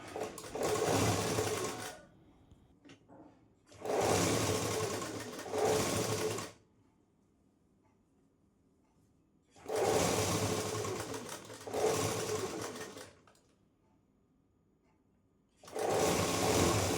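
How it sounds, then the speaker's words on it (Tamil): An electric sewing machine stitches a blouse sleeve in four steady, close whirring runs of two to three seconds each, separated by quiet pauses. "ஹேண்டுக்கு ஸ்டிச்சு போட்டுக்கலாம்."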